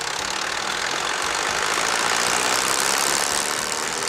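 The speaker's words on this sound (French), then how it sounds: "Laissez le moteur se réchauffer au ralenti pendant 1 ou 2 minutes." A brush chipper's engine idles steadily while it warms up, a continuous loud rumble with a broad hiss that holds even for the whole stretch and no voices over it.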